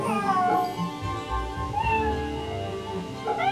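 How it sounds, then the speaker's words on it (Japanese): A cat meows repeatedly in the video game Fate Samurai Remnant, close and fairly loud, its drawn-out calls running through most of the moment over a low game background. "猫"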